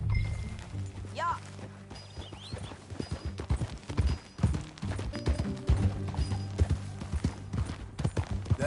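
Horse hooves clip-clop in the Red Dead Redemption 2 video game, a steady rhythmic trot under a bed of music and game ambience, with voices talking over it.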